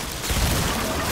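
A gun in the shooter game Outriders fires a dense, loud burst of shots that blurs into one continuous roar of gunfire with no clear gaps, heard alone.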